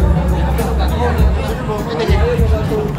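Crowd of fans chattering at a mall meet and greet for a band in Jasaan, Misamis Oriental, a steady, close babble of many overlapping voices with occasional louder calls.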